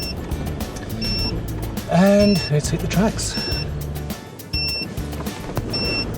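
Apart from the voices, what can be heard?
tyre pressure monitor beeping, tyres too low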